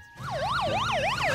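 Cartoon police car siren, a loud, close wailing tone that sweeps up and down in a fast, regular cycle, repeating about three times after a brief quiet start.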